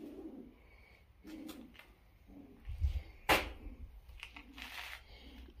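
In an abandoned building in the Bombay Beach ghost town at the Salton Sea, pigeons give soft, low coos that come and go, with faint shuffling and one sharp close knock partway through.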